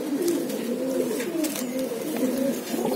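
Racing pigeons in a loft coo in soft, repeated rolling calls, several birds overlapping at close range for the whole stretch.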